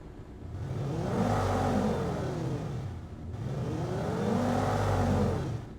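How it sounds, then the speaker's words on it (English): A synthetic engine sound revs up and winds back down twice in smooth, even swells, a whirring mid-pitched roar with no other sounds. "Let's hear it with the engine sound"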